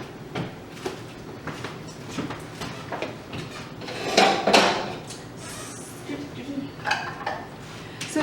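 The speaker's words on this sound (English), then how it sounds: "As I'm stirring here, I'm actually kind of smashing a bit too." Beets being stirred and smashed in a bowl for vegan beetballs, with repeated clinks and scrapes of a utensil against the bowl and a louder mashing burst partway through, close and fairly quiet.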